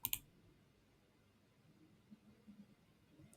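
A single sharp double mouse click sounds right at the start, followed by near silence and faint low room noise.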